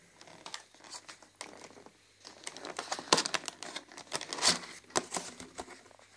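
Crinkly plastic packaging on a raspberry tart cake is opened by hand, giving irregular close crackles and tearing rustles that grow louder toward the end, with no talk.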